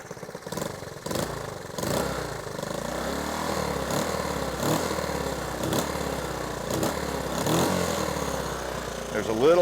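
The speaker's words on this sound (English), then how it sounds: "I'm going to rev it up a few times just to show you that it'll run right, but then I'm going to go ahead and flip the choke off" A Honda ATC 110 engine revs repeatedly in loud bursts, then runs rough and sputters toward dying once the choke is turned off, with a voice talking over it at times.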